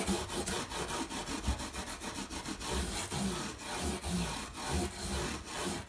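A cloth rubs hard over a rosewood fretboard on a vintage Seagull guitar, giving a close, steady series of rhythmic scrubbing strokes with dry, raspy friction and no talk.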